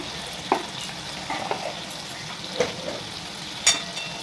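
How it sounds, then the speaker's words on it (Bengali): Prawns sautéing with salt in a pan for a spicy prawn curry, a continuous close sizzle broken by several sharp scrapes and clacks of a spatula stirring against the pan. "এটাকে ভালোভাবে একটু কষিয়ে নিব"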